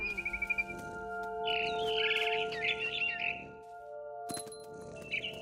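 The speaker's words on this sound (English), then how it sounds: "Then I heard chirping outside my window. It was a barn swallow going back to her nest." Bright, repeated barn swallow chirps and twitters in What Remains of Edith Finch, over a steady electronic game backdrop with sustained tones, fairly close and clear.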